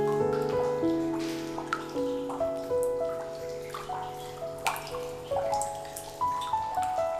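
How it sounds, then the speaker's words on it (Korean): Raindrops falling and dripping onto the ground, clear, bright plinks landing in an unhurried, irregular rhythm over a soft wash of rain. "비를 싫어하는 사람도 빗소리를 좋아할 수 있는 이유."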